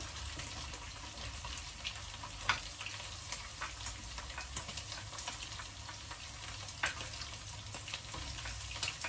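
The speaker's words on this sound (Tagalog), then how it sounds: "Piprituhin ko na yung baboy." Pork frying with garlic and onion: steady, quiet sizzle in a pan with occasional faint pops and stirring clicks, continuous throughout.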